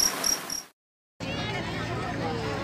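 Steady high-pitched cricket chirping fills the air, with a brief silent gap before the insect chorus resumes under a low murmur of background noise.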